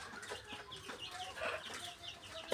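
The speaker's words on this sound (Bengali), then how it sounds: "এটা হচ্ছে আমার 3 নম্বর ব্যাচের মুরগি" Sonali and farm chickens in a small batch cluck softly and intermittently, several birds close by making short, overlapping calls against a quiet background.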